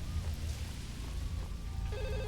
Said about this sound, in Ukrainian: хтось телефонує